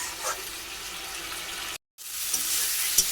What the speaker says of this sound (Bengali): এখন ভালো করে এগুলোকে কষিয়ে নেবো যাতে টমেটোর কাঁচা গন্ধটা চলে যায়